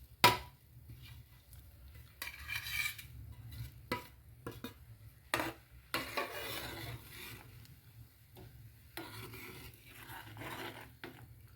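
Fox nut powder is stirred into boiling milk for makhana kheer, giving soft intermittent scraping and rubbing strokes of a spoon in a pot, quiet and close, with pauses between bursts.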